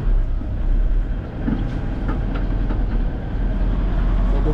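A Toyota Innova's 2KD diesel engine, running with a check-engine fault that keeps it near 1,000 RPM, is pushed at full throttle, giving a loud, steady, deep rumble with little change in pitch.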